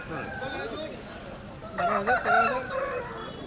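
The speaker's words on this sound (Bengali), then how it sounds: "মেনলি কি এগুলো লড়াইয়ের মুরগি?" Fighting rooster at a rural forest market crowing once loudly nearby, with clucking and faint voices in the background.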